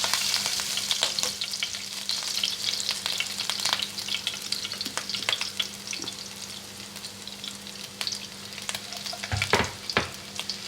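Half a teaspoon of chopped garlic sizzles steadily in hot oil, with crackling pops and a few scraping stirs close by; no voices.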